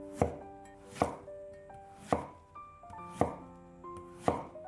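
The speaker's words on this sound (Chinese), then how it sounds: "再将西葫芦切成薄片，这里薄厚要切得均匀一些" A knife slices whole zucchini into thin, even slices on a board, five sharp, evenly spaced chops close by with a faint ringing after each, no voices.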